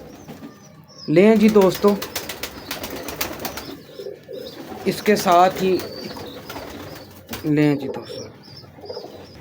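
Breeder pigeons coo in a few loud, close bursts while someone talks over and between the calls.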